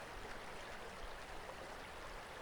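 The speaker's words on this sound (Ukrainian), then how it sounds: "Ти йдеш далі стежинкою і чуєш попереду струмок." Steady broadband rushing of flowing water, like a small forest stream in the Carpathian mountains nearby, continuous and even without pauses or voices.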